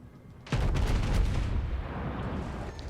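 Naval guns of the battleship North Carolina fire in World of Warships, a single loud booming salvo that strikes suddenly and then rolls on as a long, heavy rumble.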